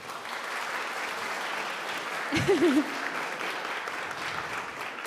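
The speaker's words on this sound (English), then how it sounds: "So let's have a round of applause, please." An audience at a panel introduction claps in a sustained, even round, with a brief voice or whoop rising in the middle of the applause.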